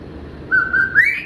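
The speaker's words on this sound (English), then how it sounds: "he defies you and sits in the corner of his cage, whistling for you to take him out" A pet cockatiel in its cage gives a single clear whistle, a steady note that bends upward at the end, close and fairly loud over a quiet room.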